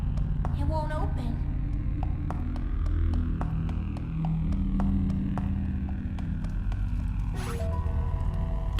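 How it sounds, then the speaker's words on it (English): A low, throbbing dungeon hum in the Twilight Escape video game fills the space continuously and loudly, with faint clicks and scrapes drifting over the droning creepy ambience. "Like that hum, makes my skin crawl."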